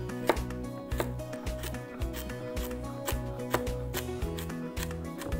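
A knife slices a carrot into half moons on a cutting board, giving a quick run of crisp, even chops at close range, played under a bright music bed with no talk.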